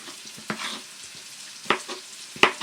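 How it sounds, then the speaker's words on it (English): Food frying and caramelizing in a pan for egg stew, a continuous sizzle with a few sharp clatters of stirring, close and fairly loud, no talking. "and let it fry, caramelize it."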